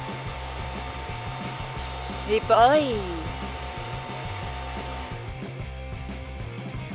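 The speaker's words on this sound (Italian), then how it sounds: "Inizierò con il phon." A hair dryer blows hair with a steady, droning whir that runs throughout. A brief voice and some rustling handling noise rise over it partway through.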